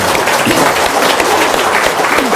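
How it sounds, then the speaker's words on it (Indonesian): An indoor audience applauding at a talk or seminar, dense steady clapping from many hands that holds at a loud, even level throughout. "Tuh, tepuk tangan dong."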